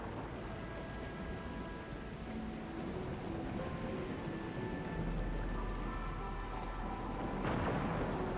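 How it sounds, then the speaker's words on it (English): Steady rain pours down in a game world in Arknights: Endfield, a dense, even hiss of drops with a faint low rumble underneath, growing slightly heavier toward the end. "I can't hear anything except for the rain."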